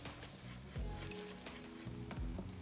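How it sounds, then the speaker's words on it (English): Beaten egg mixture sizzles steadily in an oiled pan over medium heat, with a couple of soft scraping strokes as a spatula stirs it in circles; close and continuous, with no talking. "Heat a little oil in a pan over medium heat, then pour in the egg mixture."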